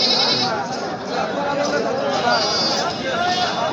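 Goats bleat repeatedly amid a busy, crowded livestock market, their calls mixed with steady chatter and voices close by.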